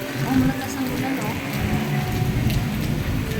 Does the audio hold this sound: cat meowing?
no